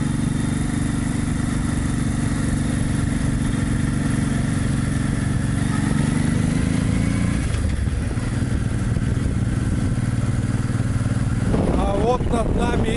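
A motorcycle with a sidecar drones steadily while riding along a road, its engine loud and close with a constant hum, shifting pitch near the end as it changes speed; a person talks over it.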